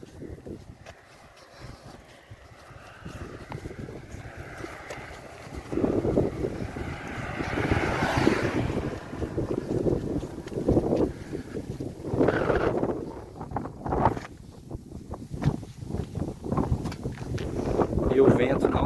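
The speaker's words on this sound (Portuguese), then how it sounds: "E o vento não dá trégua." Strong headwind buffets a cyclist's microphone on a mountain road near Tupiza, Bolivia, low gusty rumbles that swell and fade in bursts, with someone speaking intermittently underneath.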